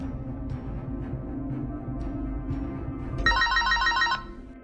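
A telephone bell rings loudly in a short burst near the end, over a steady low background rumble.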